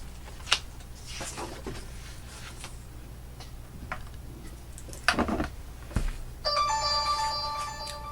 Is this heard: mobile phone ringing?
yes